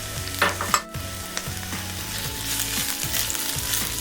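Half a chopped onion and half a chopped red pepper sauté in a hot cast iron wok, a continuous close sizzle with a couple of clanks early on and rhythmic scraping strokes throughout, no talking.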